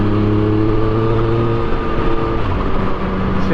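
Yamaha MT09 motorcycle with a Van Diemen all-titanium exhaust, the engine droning loud and close at a steady pitch with a rich, throaty harmonic tone and no talking.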